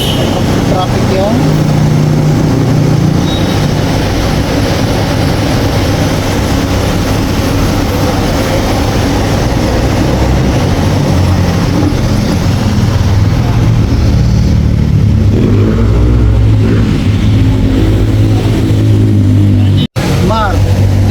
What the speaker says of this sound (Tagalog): Traffic yun.